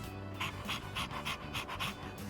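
Steady, rhythmic dog panting in Persona 3 Reload, about eight quick breaths close up, evenly spaced over a soft background music bed.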